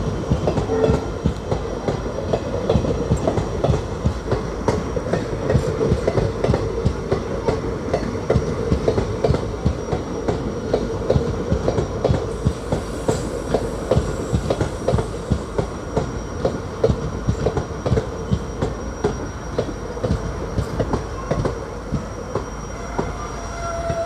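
Indian Railways Rajkot–Porbandar passenger train hauled by a WDP 4D diesel locomotive, heard as a loud, steady roll of wagons with continuous clickety-clack over rail joints and occasional wheel squeal, close by and without voices.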